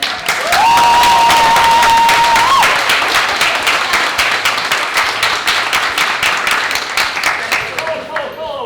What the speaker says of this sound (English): A big round of applause for our director and the creator of Where's Santa, Sandy Baker.